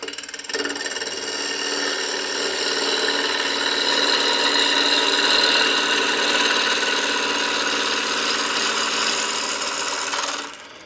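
A wood lathe spins while a tool cuts along the side grain of a spalted wood candlestick, making a continuous harsh, whirring scrape at close range that runs steadily for about ten seconds before dying away.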